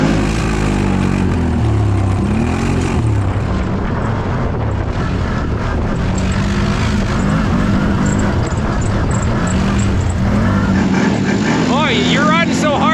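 Loud, close revving of a CFMOTO ATV engine tearing along a dirt trail, rising and falling with throttle, with people talking over the engine noise.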